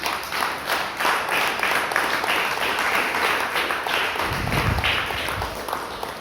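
A church congregation applauds together in a strong, steady wash of clapping that fills the room and holds for several seconds.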